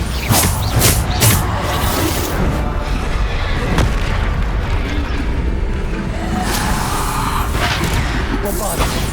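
Bombarda blasting spells fire off during a combat fight in Hogwarts Legacy, a run of loud, heavy booms and crashes layered over dense game effects and score, sustained and close throughout.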